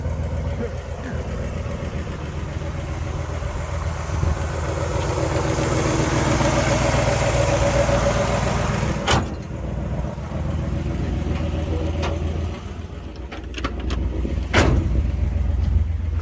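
A 1966 Pontiac GTO with a 4-speed Hurst shifter runs down an airfield, its engine droning steadily and swelling then easing, with a few sharp clicks or knocks near the end.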